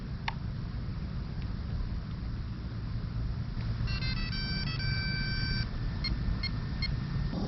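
A Castle Creations Copperhead 10 sensored ESC powering up, sounding a short series of bright electronic startup beeps and a little melody over a steady low background hum.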